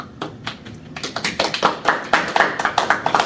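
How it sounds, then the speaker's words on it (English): A crowd of animals applauds after a rule is read, a building burst of rapid, overlapping hand claps, close and lively, growing denser over a few seconds. "Animals nod and clap after every rule is read."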